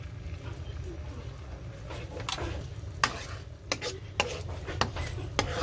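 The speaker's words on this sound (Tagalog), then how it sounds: "At haluin lang." Pepper and sugar being stirred into spicy buffalo chicken sauce in a pan, with a low simmering bubble, occasional utensil clinks and scrapes, and a voice talking faintly over it.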